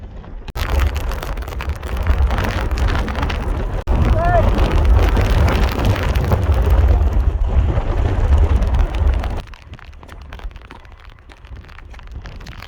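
Heavy rain and gusting wind on a high fell pass along the Cumbria Way, a loud hissing, rumbling downpour with wind buffeting the microphone, easing to a quieter steady patter near the end.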